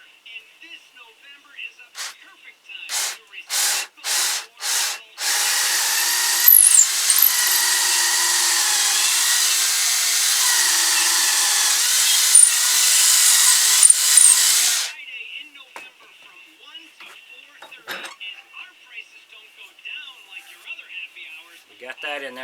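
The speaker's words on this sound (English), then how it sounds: "Now I'm going to use a 1/4-inch drill bit for this." A power drill with a 1/4-inch bit bores into a wooden figure, a sustained whine of about ten seconds, preceded and followed by several short trigger bursts and quiet handling.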